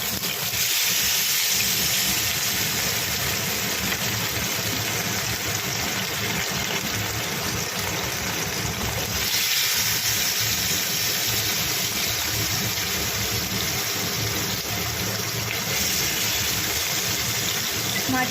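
Bele fish frying in hot oil, a steady continuous sizzle and hiss that holds at an even level throughout, close and unbroken, with no talk.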